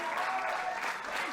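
Crowd at a 2021 New South wrestling show applauding, a dense, steady wash of clapping and cheering that fills the whole short stretch at moderate loudness.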